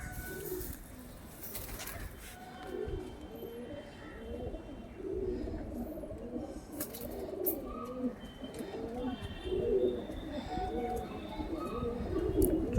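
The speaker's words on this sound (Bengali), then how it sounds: "দেখুন একটা মাদি পায়রা," Pigeons coo steadily in a loft with a female pigeon nearby, a dense overlapping chorus of soft rolling coos that continues throughout at moderate level, with faint talk in the background.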